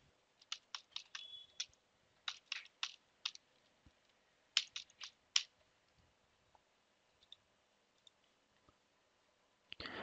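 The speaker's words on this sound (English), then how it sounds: "You just click new tab and then type Google." Someone types on a computer keyboard while using a Debian desktop: quick bursts of crisp, close key clicks in irregular runs, separated by quiet pauses, with one last keystroke at the end and no talking.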